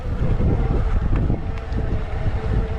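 Gusty wind of about 50-60 km/h roars across the microphone during an electric mountain bike ride on trails at Eugi, a loud, constant buffeting rumble with no talk.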